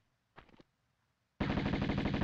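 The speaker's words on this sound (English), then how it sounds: "Mother effing Uzis." Uzi submachine gun fire in a Tomb Raider game, opening with a short burst and then a loud, rapid, sustained stream of automatic shots that runs to the end.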